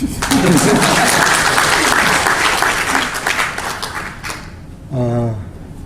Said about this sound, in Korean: 박수 치고 싶으시죠?